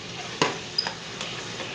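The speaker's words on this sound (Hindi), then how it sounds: "अब इसमें मैंने फिश डाली है" Fish pieces sizzling in a pan of cooked-down tomato masala for fish curry, a soft hiss broken by a couple of sharp utensil clicks.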